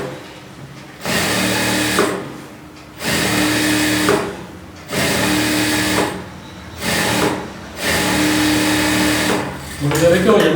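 A sewing machine stitches a blouse in a tailoring setup, running in several bursts of steady whirring separated by short pauses, loud and close.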